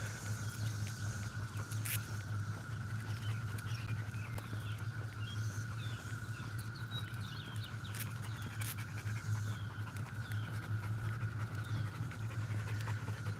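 A dog pants steadily and rhythmically throughout, close and fairly loud, over a constant low electrical hum, with no talking.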